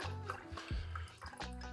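Matcha drink poured into milk for a clarified cocktail, a short liquid trickle and drip with a brief splash near the end, close and fairly quiet.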